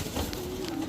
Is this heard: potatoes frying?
no